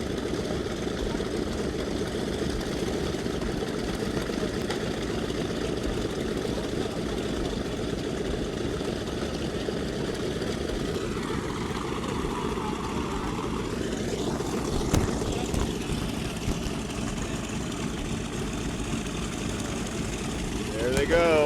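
Vintage World War II B-17G and B-25J propeller aircraft engines run steadily at an air expo at Pappy Boyington Field in Coeur d'Alene. The loud continuous roar has a throbbing drone, and a pitch sweep passes midway through.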